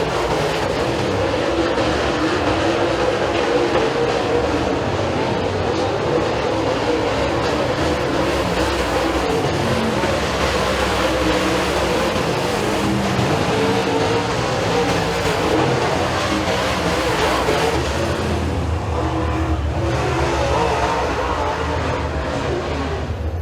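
Race cars roar steadily through a heat race at Eriez Speedway, a dense, continuous engine drone with engines rising and fading as the pack circles the dirt oval, loud and unbroken throughout.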